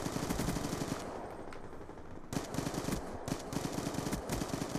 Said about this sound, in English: Thank you, sentry gun. Keep doing work.